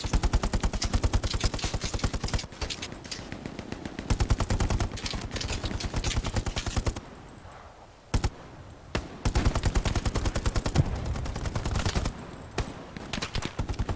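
Dense, continuous gunfire in Hell Let Loose, rapid bursts hammering loudly and near for long stretches, broken by a brief lull before the firing resumes.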